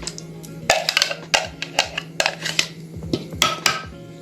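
A metal pot set down into a frying pan on a stove while pumpkin soup is cooked: a run of sharp, close clanks and scraping knocks at an uneven rhythm, with no talking.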